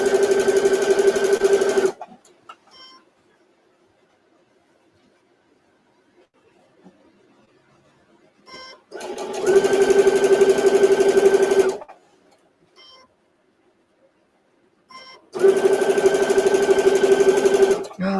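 A sewing machine stitches flat fabric for a microwave potato bag in three loud bursts of a few seconds each, separated by quiet pauses with faint handling noises.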